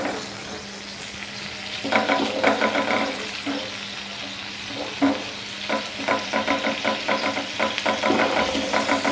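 Onion paste fries in a pan for a rohu fish dish, a steady sizzle with repeated scraping stir strokes that grow busier toward the end; close and moderately loud, with no talking.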